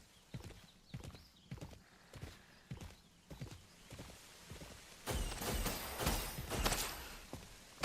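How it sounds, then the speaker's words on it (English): Steady clip-clop of horse hooves in a regular walking rhythm in Mass Effect, growing louder and busier toward the end with a whinny and added noise. "You could ride horses."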